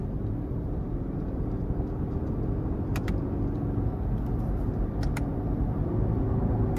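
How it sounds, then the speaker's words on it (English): A 2022 Lexus LX600 F Sport with a twin-turbo engine and 10-speed automatic, driven in manual mode: a steady low engine and road drone heard from inside the cabin, with a few faint clicks. "I'm going to put it in the manual mode and just see how it handles with that twin turbo"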